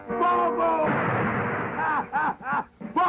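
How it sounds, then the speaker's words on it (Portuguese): A heavy starboard ship's cannon boom erupts and rumbles for about a second amid harmonic shouting voices, followed by several more bursts of yelling. "Canhão de estibordo, fogo!"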